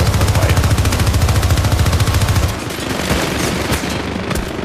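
Minigun fire in the video game Syndicate, loud and continuous rapid rattling bursts in the first half, then scattered gunshots and impacts, with a faint voice underneath.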